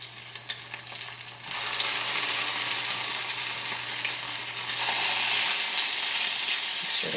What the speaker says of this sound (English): You should have a nice sizzle.